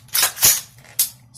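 Dry firing a cleared AR-15 rifle gives sharp, close metallic clicks: a hammer fall, then a lighter trigger reset click, then a second hammer fall, alone and without talk.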